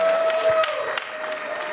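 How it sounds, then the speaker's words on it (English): Audience at a school auction clapping for a winning bidder, a dense burst of applause that is steady and fairly close, with a voice faintly underneath. "Give her a round of applause"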